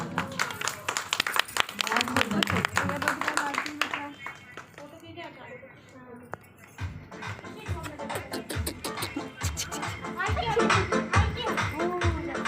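An audience at a Saavan festival function claps and cheers for children, with bursts of loud applause broken by a quieter stretch, and voices of adults and kids talking over the clapping.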